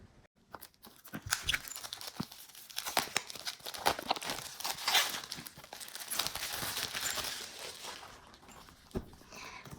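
Packaging for a Tarot of Light and Shadow card deck is torn and unwrapped close by, with repeated crinkling and ripping bursts that build to a dense, steady rustle before trailing off near the end.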